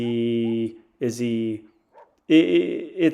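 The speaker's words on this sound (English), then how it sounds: "Same reason, why is he barking at Prince?" A Dutch/German Shepherd barks and whines in short bursts with pauses between them, close by and fairly loud.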